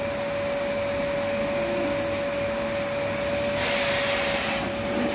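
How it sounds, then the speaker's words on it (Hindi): A household vacuum cleaner runs steadily during home cleaning before Eid, a loud, constant whine and roar with no pauses and no voices. "बेटी लगा रही है वैक्यूम"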